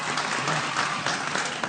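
Audience applause at a talk-show style interview, a dense, steady wash of clapping from many hands that fills the moment without a break and carries no speech over it.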